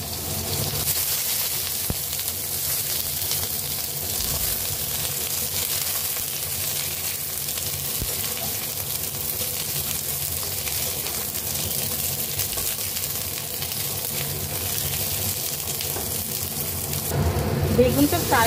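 Eggplant pieces frying in hot oil for a Bengali shukto, a steady broadband sizzle running throughout, close and fairly loud, with brief clinks and a slight surge near the end.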